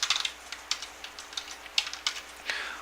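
Keys on a computer keyboard are tapped in a sparse, irregular series of sharp clicks, close and moderately loud, with a slightly heavier press near the end and no talking.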